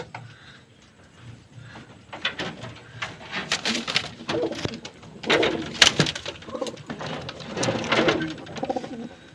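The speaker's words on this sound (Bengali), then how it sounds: "কিছু বাচ্চা পায়রা দেখালাম আপনাদেরকে" Pigeons cooing in a loft housing young chicks along with adult males and females, repeated rolling coos at close range building in loudness, with faint background noise and no talk.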